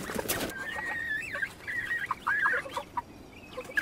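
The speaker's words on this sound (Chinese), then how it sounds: "这些小鸡和鹅也是第一次吃生菜。" Young chickens, kept alongside geese, cluck and chirp repeatedly in quick, uneven bursts while pecking at fresh lettuce, close by and fairly soft, with no talking.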